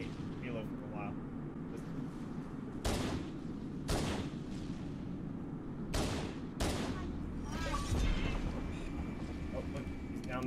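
Halo CE gunfire, a handful of sharp separate shots and bursts cracking out over a rumbling battle background, fairly close, with a voice talking underneath.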